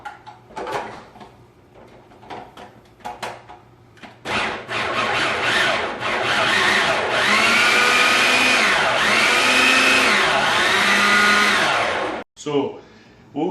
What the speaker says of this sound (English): And we're going to blend them all together.